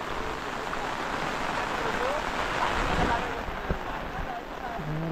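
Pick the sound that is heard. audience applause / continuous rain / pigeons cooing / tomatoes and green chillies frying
continuous rain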